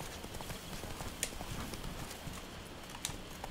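Roach, Geralt's horse in The Witcher 3, trots along with faint, steady clip-clopping hooves under a soft ambient wash, a couple of sharper hoof strikes standing out.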